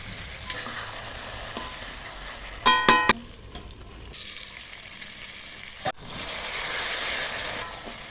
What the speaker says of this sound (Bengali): ওই মাখানে ঢেঁড়স গলাটা দিয়ে নাড়িয়ে চাড়িয়ে ঢাকা দেবো